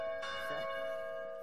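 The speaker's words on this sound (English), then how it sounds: "Please stop shooting the bell." A church bell in the military shooter Arma 3 rings out when struck by gunfire, one sharp metallic strike at the start followed by a second hit, leaving a long sustained ringing tone that slowly decays with no voices.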